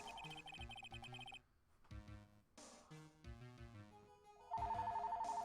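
A phone rings in Phoenix Wright: Ace Attorney - Justice for All, a repeating electronic ringtone of quick, bright, beeping notes that stops and then starts again over game music, with no talking.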